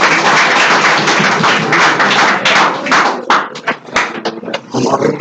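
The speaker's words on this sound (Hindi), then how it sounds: "इसके लिए विशेष तालियां हो जाए।" Studio audience applause on a Hindi quiz show, a loud dense wash of clapping lasting several seconds and thinning into scattered claps near the end.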